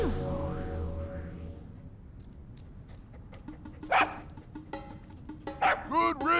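Dog barks and whimpers from a creature in the game Zelda: Breath of the Wild, with a sustained tonal phrase at the start giving way to several short, fairly close yips and barks in the second half.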